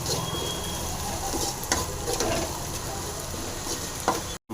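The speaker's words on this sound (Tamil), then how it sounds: "இது அப்படி நல்லா ஃப்ரை ஆகட்டும்" Green gram and beans stir-fry with a little salt in a pan, making a soft, continuous sizzle and light stirring that cuts out briefly near the end, with no voices.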